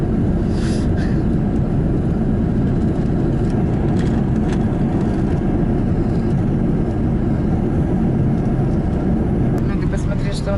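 Steady broadband roar of a jet airliner's engine in cruise on a transatlantic flight to New York, heard from inside the cabin as a constant loud drone with faint rattles, no talking.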